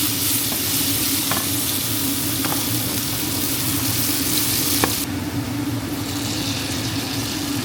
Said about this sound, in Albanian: tani do hedhim qepën dhe 3 thelpin udhre